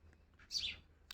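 In the early morning before sunrise, a pair of sparrows calls out. A single bright, sweeping chirp stands out clearly in the quiet, followed by a shorter, fainter call.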